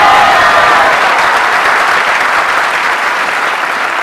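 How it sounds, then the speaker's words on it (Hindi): An audience applauds at a live stage seminar, a loud, dense and steady wash of clapping from a large crowd that holds throughout without voices. "हमारे लिए तालियां बजाते हैं यार।"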